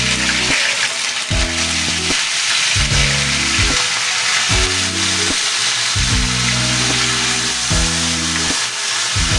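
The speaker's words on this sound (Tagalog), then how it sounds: "piprito na po natin yung ating galunggong" Galunggong (round scad) fish frying in hot oil, a loud continuous crackling sizzle that holds steady throughout alongside a repeating low droning pulse.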